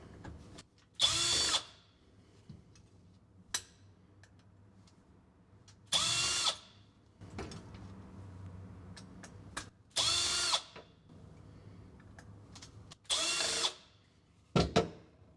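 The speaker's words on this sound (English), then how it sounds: "Now undo the 4 screws on the bottom of the carby bowl." A power drill works loose the four bottom screws of a Honda GX630 V-twin carburetor bowl, five short whirring bursts spaced across the clip with quiet pauses and small clicks between them.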